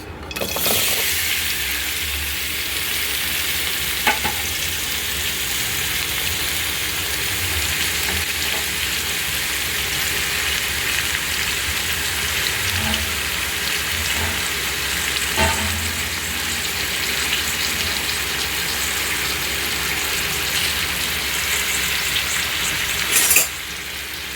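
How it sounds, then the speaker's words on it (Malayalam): Chopped ginger frying in ghee in a pan, a loud, close, continuous sizzle throughout with occasional soft scrapes of stirring. "നല്ലോണം വറുത്തെടുക്കാം."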